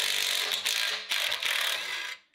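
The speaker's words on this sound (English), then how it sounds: "I found that a 3/4-inch 12-point socket is a pretty good fit on here." Ratchet fitted with a 3/4-inch 12-point socket turning bolts, giving continuous close rapid clicking in three bursts with brief pauses, loud and alone with no voices.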